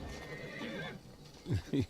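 A horse in the game Assassin's Creed Syndicate gives a short whinny, with hoof clip-clops and street ambience in the background and a few brief vocal sounds near the end.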